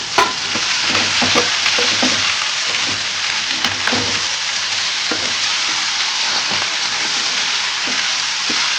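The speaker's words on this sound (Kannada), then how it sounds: "ಒಂದು ಎರಡು ಟೊಮೊಟೊ ಆಮೇಲೆ ಒಂದು ಏಳು ಒಂದು ಎಂಟತ್ತು ಬ್ಯಾಡಗಿ ಮೆಣಸಿನ್ಕಾಯಿ ಒಂದು ಎರಡು ಗಡ್ಡೆ ಅಷ್ಟು ಬೆಳ್ಳುಳ್ಳಿ ಒಂದು ಇಂಚಷ್ಟು ಶುಂಠಿ ಇಷ್ಟನ್ನು ಹಾಕೊಂಡು ಫ್ರೈ ಮಾಡ್ಕೊಬೇಕು" Tomatoes, Byadgi chillies, garlic and ginger fry in a pan with a steady, close sizzle, while a utensil stirs and scrapes now and then throughout.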